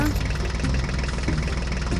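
Toy John Deere tractor reversing, giving a steady buzzing, engine-like drone that runs throughout under a child's or adult's voice.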